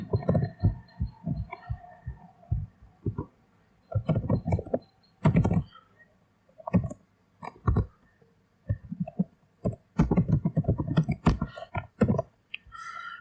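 Typing on a computer keyboard in short bursts of quick, close clicks separated by brief pauses, with no one talking.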